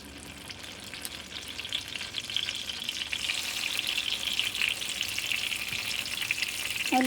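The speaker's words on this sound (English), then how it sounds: "Now let's close the lid and keep it for frying." Steady sizzling of capsicum frying in hot oil, a continuous crackle that grows slightly louder and busier toward the end.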